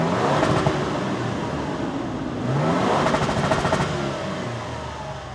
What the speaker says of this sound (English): So this is what the Tundra sounds like.